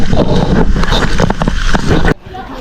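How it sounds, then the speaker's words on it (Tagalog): Strong wind at a beach campsite in Infanta, Quezon, Philippines, roars and buffets the microphone in a loud, continuous rush, then suddenly drops off near the end. "Lakas ng hangin."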